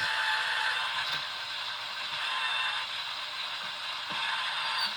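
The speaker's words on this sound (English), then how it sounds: "Put it on our trim holder. Go ahead and trim the case." A .223 Remington brass case is trimmed on a Lyman case trimmer, making a close, continuous scraping and grinding rasp with faint clicks as the cutter turns.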